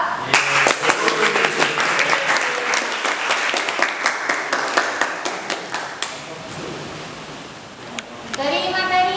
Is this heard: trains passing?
no